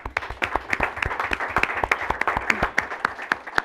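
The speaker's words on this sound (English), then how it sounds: "give her a round of applause" Applause from the audience at a Belton city council meeting: a modest group clapping at close range, with individual hand claps distinct and fairly loud in a brisk, uneven rhythm throughout.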